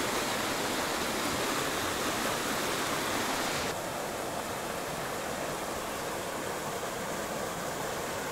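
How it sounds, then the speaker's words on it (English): A creek flows in a foggy wooded valley at a state park, its steady broadband rush continuous and fairly close, dropping slightly in level partway through with no talk over it. "We got down by the creek."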